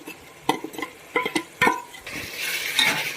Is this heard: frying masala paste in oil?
yes